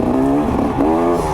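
A KTM 250 TPI fuel-injected, oil-injected two-stroke dirt bike engine running nearby on a trail, a loud steady buzzing drone with a slight pitch rise partway through, no voices.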